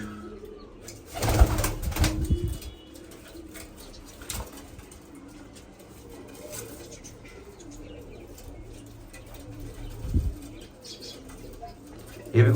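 Pigeons in a loft, some being treated for skin boils, coo steadily while wings flap in loud bursts early on and again later, with someone talking intermittently nearby.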